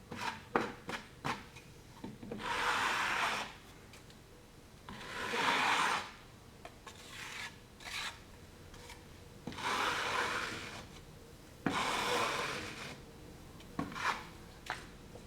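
A float sweeps across wet tadelakt, a Moroccan lime plaster, in several long scraping strokes with short pauses between them. Quieter taps and brief rubs fall between passes, close and fairly soft, with no talk.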